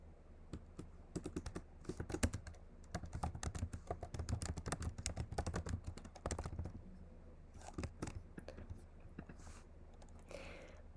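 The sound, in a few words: typing on a computer keyboard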